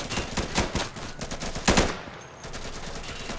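Gunfire in the co-op shooter game Insurgency: close, loud bursts of rapid automatic fire with sharp individual cracks, easing off into quieter background noise toward the end.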